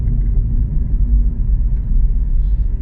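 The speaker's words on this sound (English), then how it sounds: "There's a few noises, the road noise and then the rattles." Low, steady road rumble inside a moving Honda e electric car, a constant deep drone with no talking and only faint higher noises above it.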